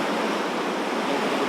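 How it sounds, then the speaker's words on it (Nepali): A large, dangerously swollen river near a village rushes past in a loud, continuous roar, with no voices. "खोला चाहिँ डेन्जर ठुलो रहेछ"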